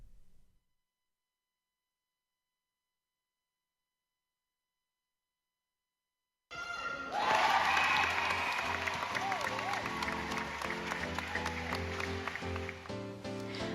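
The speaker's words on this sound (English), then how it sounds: "The crowd cheered with every pass, every goal, every defensive stop" Crowd at a record-attendance netball match breaks into loud sustained applause and cheering after a silent stretch, continuing steadily to the end with a bright, dense roar.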